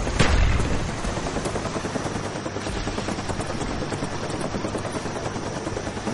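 A supply transport helicopter in the Call of Duty Black Ops game flies in, a loud continuous rotor drone that opens with a sharp burst and then holds steady, with no talk.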